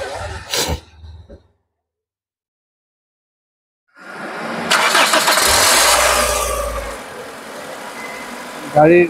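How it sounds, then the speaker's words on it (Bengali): A 1999 Toyota Corsa with a 1331cc engine cranks and catches after a short voice and a pause of silence, then settles into a steady, close idle with a loud burst near the end. "একটু স্টার্ট করেন ইঞ্জিনটার সাউন্ডটা একটু দেখি।"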